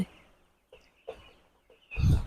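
Broiler chickens on a poultry farm housing about 700 birds give scattered, fairly faint clucks in short separated bursts, ending in a louder, busier flurry of calls.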